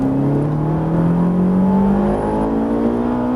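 Ferrari 458 pulling hard around Circuit Haut Saintonge, a loud, close engine note climbing steadily in pitch under acceleration with a continuous whirring roar throughout.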